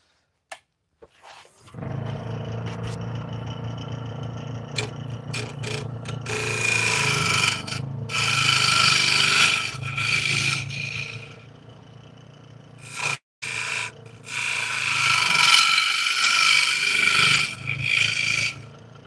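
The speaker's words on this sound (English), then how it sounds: "It's the first time ever using a bowl gouge." A bowl gouge cuts a walnut and butternut wood bowl spinning on a lathe, giving a rough, continuous scraping rasp that comes in long passes with brief pauses between cuts, loud and close, with no voices.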